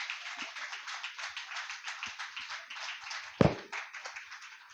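A congregation claps in praise of God at a church service, a dense, steady stream of many hands clapping at an even pace throughout, with one louder thump partway through.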